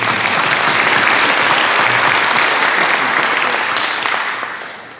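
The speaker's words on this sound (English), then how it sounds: "let's please give a round of applause for Dr. Scanlon." An audience at a middle school panel talk applauds loudly and steadily, a dense wash of clapping that fades away at the end.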